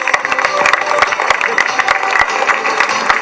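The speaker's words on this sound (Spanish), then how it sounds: "Un aplauso para las señoritas." Applause from an audience honouring the teachers at a special-needs school ceremony in Salto: a dense, steady wash of many hands clapping at close range, with a few voices mixed in.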